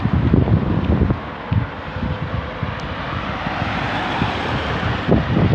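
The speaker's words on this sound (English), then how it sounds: "And the wind has got us today." Outdoor wind roars steadily across the microphone as broadband rushing noise, with gusty low buffeting that swells and eases throughout, loud and unbroken with no voices.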